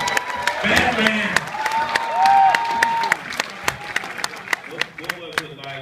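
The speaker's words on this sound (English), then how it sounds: "give him a round of applause" Scattered audience clapping at a Q&A event, loud and mixed with voices and cheers at first, then thinning to a few isolated claps that trail off.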